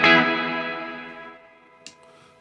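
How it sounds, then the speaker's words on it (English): A guitar played through a TC Electronic Hall of Fame reverb pedal on its long setting: one loud struck chord decays slowly into a long reverb tail over two seconds, with a faint brief noise near the end. "I think in long you can hear a great deal more separation there between when I'm playing and when the verb comes in."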